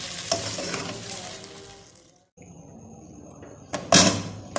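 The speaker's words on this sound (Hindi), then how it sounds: "अब हम इसको मिक्स कर लेंगे, अच्छी तरह से भून लेंगे।" Chopped green chillies and spices frying in a pan for Pakistani chicken pulao, sizzling with stirring scrapes, a brief drop in sound midway, then a louder burst of frying near the end, no talk.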